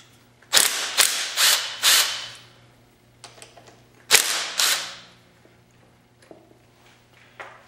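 Two 8mm nuts come off a motocross front brake lever and reservoir clamp: a few sharp metallic ratcheting clicks in short bursts, then a pause and another cluster of clicks, close and fairly loud with quiet gaps between.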